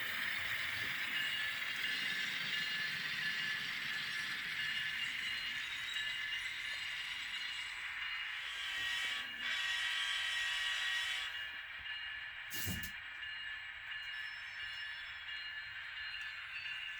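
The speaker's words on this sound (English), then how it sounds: "my Norfolk Southern locomotive is actually pulling a 4-pack from Microtrains" A Norfolk Southern model locomotive hauls a four-car set of Microtrains boxcars, giving a steady, fairly quiet rolling rattle and hiss that runs throughout, with a couple of brief sharper clicks near the end.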